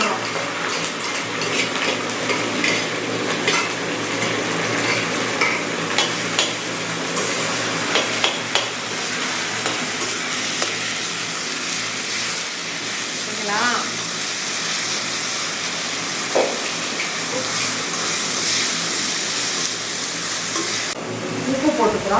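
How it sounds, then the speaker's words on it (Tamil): Small onions (shallots) sizzle and fry steadily in hot oil for Tamil-style onion thokku, a dense continuous crackle with occasional stirring and scraping against the pan throughout. "அப்புறம் சின்ன வெங்காயத்தை நம்ம இந்த எண்ணெயில் போடுறோம்."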